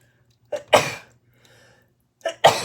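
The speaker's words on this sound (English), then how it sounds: "Excuse me, I'm gonna have to sneeze." Two sneezes, each a quick inhaled catch followed by a loud burst, separated by a short quiet pause.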